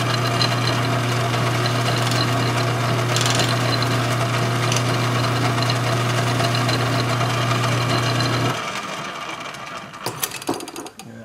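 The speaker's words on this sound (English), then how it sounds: "I love this little lathe" A small metal lathe spins steadily while rounding over the edge of a workpiece, a loud continuous motor hum with a strong low drone that cuts off near the end, leaving a few faint clicks and handling taps.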